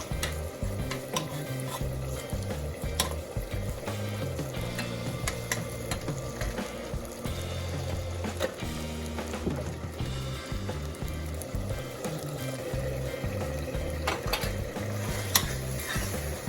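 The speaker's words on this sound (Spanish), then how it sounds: "Entonces ahora dejo sofreírla con la cebolla." Tomato paste fries with onion in a pan while making Honduran enchiladas, a continuous soft sizzle close by with light stirring and utensil scrapes, and no talking.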